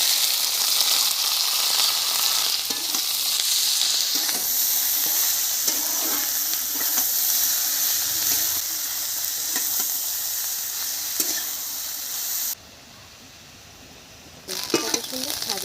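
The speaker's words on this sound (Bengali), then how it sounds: "কড়া গরম হয়ে গেছে, চিংড়িগুলো ভেজে নেব।" Small shrimp, seasoned with turmeric and salt, sizzle loudly in a hot wok with a constant hiss and crackle and faint stirring; the sound briefly dips quieter near the end before returning.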